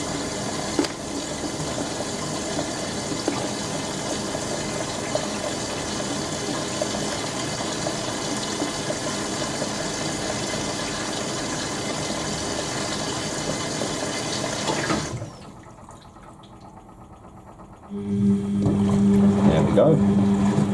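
Indesit Ecosense WN1196WG washing machine running a second rinse: a steady rushing of water fills the drum loudly, cuts off abruptly, then after a short quiet pause a humming tone and renewed water noise begin.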